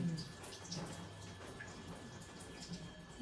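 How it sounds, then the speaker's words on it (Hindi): Tap water running and filling a container indoors, a soft steady flow with light splashing and occasional drips, faint and continuous, with a few quiet background sounds. "ये तो सिर्फ पानी भर रहा है।"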